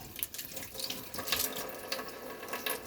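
Water runs steadily from a tap into a sink with a stopped drain while wet bedding is rinsed off, a continuous close splashing rush with small surges and no talking.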